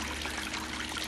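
Water pours and trickles steadily through a bucket sluice concentrator as black sands are run for gold, a continuous close wash with no talk.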